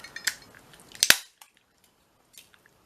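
Scissors snipping through scraps of shrink plastic, two sharp close cuts near the start followed by a few faint clicks and handling sounds, with no talk.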